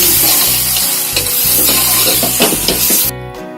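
Onion- and garlic-free Odia ghanta tarakari, a mixed vegetable curry, sizzles steadily in a pan while being stirred. The frying is loud and close, with scraping stirs throughout, and it cuts off near the end.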